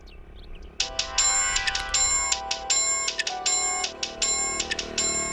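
A mobile phone ringtone for an incoming call starts abruptly and repeats as a bright, rhythmic electronic melody in quick, evenly spaced bursts, loud and clear with no talking.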